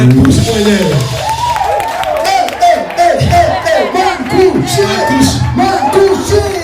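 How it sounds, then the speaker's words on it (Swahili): Audience applause and cheering for Bishop Mankush at a church gathering, dense clapping with whoops throughout, loud and close, with voices calling out over it. "Wapi makofi ya Bishop Mankush."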